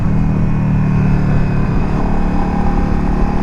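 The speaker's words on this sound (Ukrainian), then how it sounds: "Тут не стоковий вихлоп і мотик трошки гучноват, як на мене" A loud Yamaha Drag Star 1100 motorcycle engine with a non-stock aftermarket exhaust rumbles steadily up close with a deep, throaty exhaust note and no pauses.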